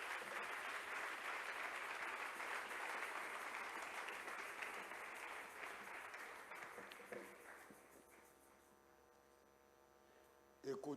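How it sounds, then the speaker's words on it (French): A church congregation applauds loudly and steadily for several seconds; the clapping then fades to a faint hum and a few soft voices. "Acclamons encore très fort le Seigneur."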